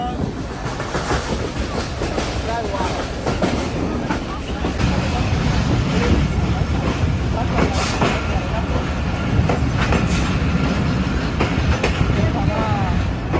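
Inside a moving Tungipara Express local train on the way to Rajshahi, a loud, continuous rumble of rolling carriages carries faint clickety-clack of the wheels, while people talk throughout.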